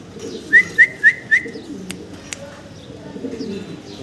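Black Danish fancy pigeons give a quick run of four soft cooing calls close by, followed by quieter rustling and faint clicks against a low background hum.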